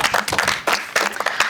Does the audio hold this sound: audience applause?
yes